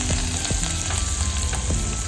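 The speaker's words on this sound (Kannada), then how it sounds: "ಕರಿಬೇವು, ಬೆಳ್ಳುಳ್ಳಿ ಚೆನ್ನಾಗಿ ಫ್ರೈ ಮಾಡ್ಕೊಳ್ಬೇಕು." Onion, curry leaves and garlic fry loudly in hot oil, a dense, close, constant sizzle with a few soft stirring scrapes underneath.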